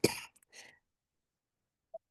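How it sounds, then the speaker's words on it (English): A man coughs once, loud and close, with a short second cough just after. Near silence follows, broken by one faint click. "And forgive my coughing."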